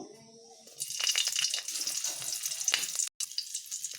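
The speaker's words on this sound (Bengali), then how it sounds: "কড়াতে আমি একটু তেল দিয়ে নিলাম একটি কাঁচা লঙ্কা দিয়ে নেব" A green chilli dropped into hot oil in a wok, bursting into a loud, close, bright sizzle that runs steadily for a few seconds with a brief break near the end.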